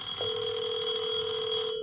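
Ring-back tone when dialling into a Panasonic KX-T1451 cassette tape answering machine remotely, a single steady electronic tone that starts shortly in and holds to the end, heard faintly over a line hum.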